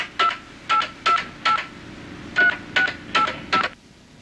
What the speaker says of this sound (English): you enter the long-distance number you want to call